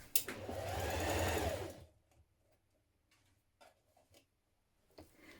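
Sewing machine stitching a seam on a linen blend trapeze dress, running steadily and loudly for about two seconds and then stopping, followed by a few faint ticks and small handling clicks.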